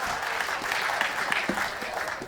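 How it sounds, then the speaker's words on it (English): Audience applause at a CS:GO esports event, a dense continuous wash of clapping and crowd noise heard close and fairly loud for a few seconds. "Ladies and gentlemen, round of applause for Fur."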